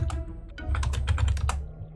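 Fast, close tapping on a computer keyboard during an Age of Empires Gold game, a brisk cluster of sharp key clicks over a faint low hum, with nobody speaking.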